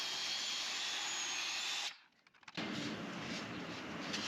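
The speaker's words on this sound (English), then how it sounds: "I will cut those French cleats out right now" A loud power tool cuts plywood French cleats in a workshop, a harsh continuous whine that stops briefly for about half a second before resuming at full volume.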